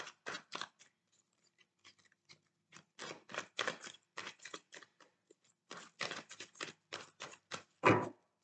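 Tarot cards being handled and laid face down during a reading, heard as bursts of crisp papery shuffling and slides, several separate flurries with short pauses, close and moderately loud, no talking.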